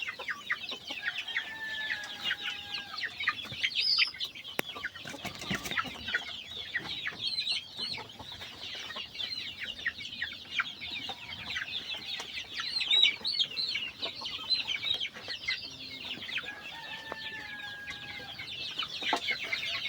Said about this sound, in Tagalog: Muna sa guys ya mga manok ko